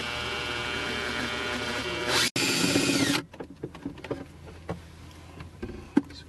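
Power drill boring a hole into the interior trim of a 2002-2006 Toyota Camry, a loud steady whine for about three seconds that briefly cuts out and stops, followed by scattered clicks and handling noises.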